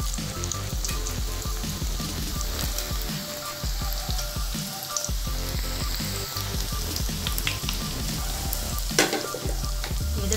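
Onion pakoda deep frying in hot oil, a loud, steady sizzle and bubbling crackle that runs unbroken throughout, close up with no voices.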